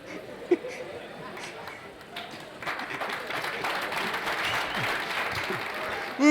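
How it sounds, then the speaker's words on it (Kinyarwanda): Audience applause at a live comedy show, clapping that starts moderate and swells into fuller, denser applause mixed with crowd chatter, steady until the end. "Mubera amashyi papa nyamuneka."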